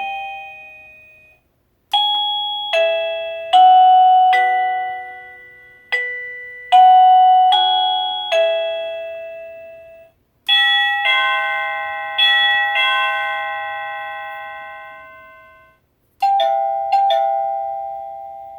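Several ring melodies from a Govee waterproof wireless doorbell play one after another, bright electronic chime tunes of varied notes, each ringing out and decaying before the next starts, close and loud against a silent background.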